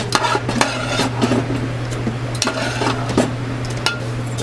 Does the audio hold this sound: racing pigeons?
no